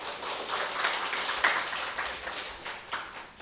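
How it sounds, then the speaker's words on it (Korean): Congregation applause during a Korean church Sunday service, a dense wash of many hands clapping together, steady and moderately loud for a few seconds without voices. "우리 하나님께 영광의 박수 올려드리겠습니다."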